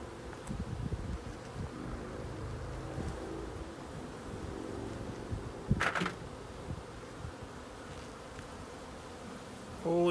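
Honey bees buzzing faintly inside an opened hive in spring, a low, steady hum with occasional louder passes of single bees close by, set against quiet outdoor background noise.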